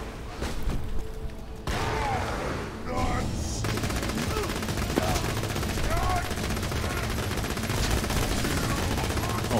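Gunfire from Borderlands 2 in the Headhunter DLC: repeated sharp cracks and bursts over busy game sound, with a voice talking in places.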